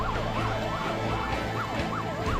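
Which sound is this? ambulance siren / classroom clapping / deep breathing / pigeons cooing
ambulance siren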